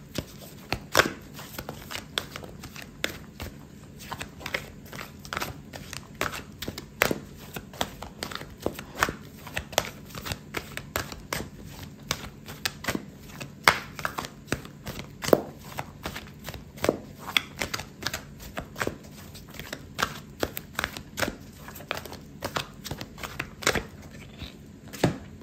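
Tarot cards shuffled and handled over a steady low hum, with a dense run of soft riffling taps and flicks throughout, close and moderately quiet.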